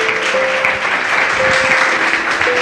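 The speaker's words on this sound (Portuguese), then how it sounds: "Louve a Ele com as suas palmas bem forte." A church congregation claps hands loudly and steadily during a worship service, a dense, close wall of applause that continues without pause, with a sustained musical tone faintly underneath.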